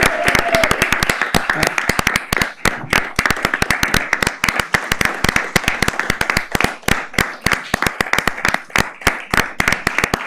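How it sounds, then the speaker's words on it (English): Audience at a city council meeting claps for honorees during a formal recognition, sharp close handclaps from a smallish group in a fast, irregular, continuous patter lasting about ten seconds. "Everyone, please give them a round of applause."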